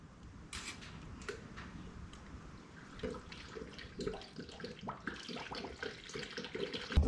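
Honda coolant is poured into the new radiator of a Honda CRX. The liquid makes a faint, uneven glugging and trickling, with irregular splashes that grow slightly louder toward the end.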